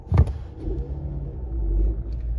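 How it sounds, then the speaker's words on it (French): A car engine rumbles low and steady, revving gently as it pulls away from a standstill on a hill start, with a brief knock at the start and no voices. "Je laisse l'embrayage tout en gérant sa montée et je commence à accélérer."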